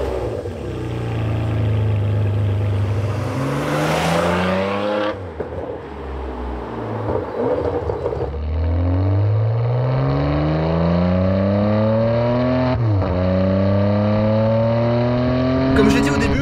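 A Ferrari 599 HGTE with a body kit accelerates through several gears, its engine note rising in long climbing sweeps broken by shift dips, loud and close from inside the car, with someone talking over it.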